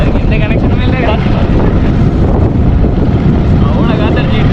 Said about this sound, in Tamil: இன்றைக்கி பார்த்தா அவ்வளோ காற்று அடிக்குது